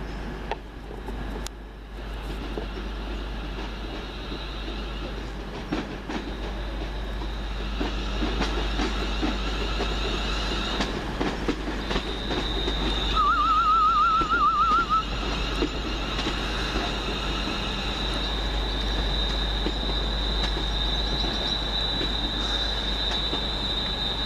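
A train pulls in at Wolverhampton station to terminate from Walsall, a steady low rumble with a brief wheel squeal partway through and a thin high whine, no voices.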